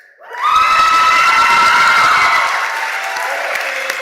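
An audience at a Dayton-area graduation ceremony bursts into loud, sustained applause and cheering for a graduate, swelling quickly and then easing slightly as the clapping continues.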